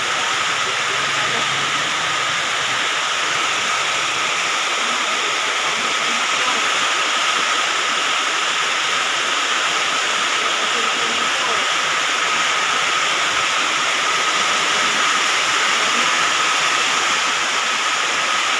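Steady heavy rain pours during a typhoon, a dense, unbroken hiss that stays loud and even throughout with no wind gusts yet.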